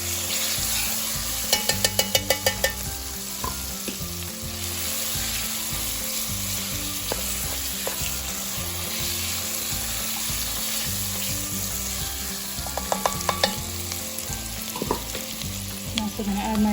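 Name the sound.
tomato paste sizzling and caramelizing in hot oil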